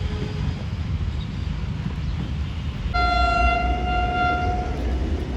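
A passenger express train rumbles steadily at Drigh Road railway station, then its locomotive sounds a long, loud, sustained horn blast that holds through the end.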